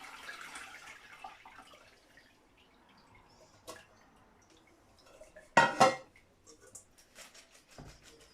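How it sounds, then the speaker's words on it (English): Ivy leaves and water are poured through a colander, giving soft splashing and trickling with a few sharp clinks and a brief louder splash, fairly quiet and close. "So I'm going to take a colander. I'm just going to separate the leaves from the water."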